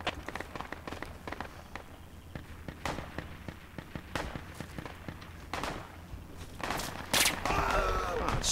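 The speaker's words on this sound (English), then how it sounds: "Oh, machine gun." Machine gun fire crackles in short bursts and scattered single shots across a military shooter game battlefield, mostly at a moderate distance, with a louder burst near the end and squad voices talking intermittently.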